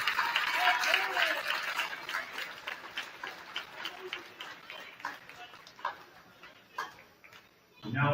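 A crowd applauds in a school gym at a varsity basketball game, clapping strongest at the start and thinning into scattered claps and a few thuds as the noise fades, with talk mixed in under it.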